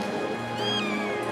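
Brief, faint meow from a Devon Rex kitten at a cat show, a single short cry half-buried in constant background hall hum.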